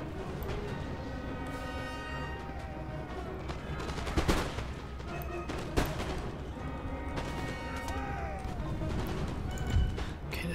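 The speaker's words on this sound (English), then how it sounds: "Get them to hit that unit of line infantry with canister shot." Artillery firing canister shot at line infantry in the strategy game Empire Total War; several sharp booming blasts at irregular intervals over a busy battle din, with someone talking.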